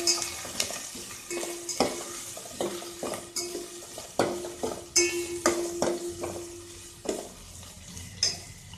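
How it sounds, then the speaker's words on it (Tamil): Onion and green chillies frying in a pan for a rajma lunch dish, stirred with a utensil in repeated scraping strokes under a steady close sizzle, with occasional clinks against the pan. "அடுத்து இதோட வெங்காயம், பச்சை மிளகாய் போட்டேன்."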